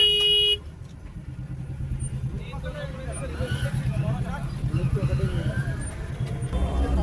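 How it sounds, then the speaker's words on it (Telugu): Car horns honk repeatedly in a Diwali-season traffic jam opposite Gudimalkapur market, with a loud opening blast and then more horns over steady engine rumble. Someone talks throughout. "మళ్ళీ ట్రాఫిక్ జాము."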